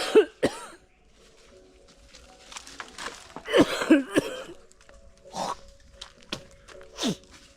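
Several separate, fairly close coughs and throat-clearing bursts sound out at dawn in an areca nut orchard in Konkan, with quiet pauses between them.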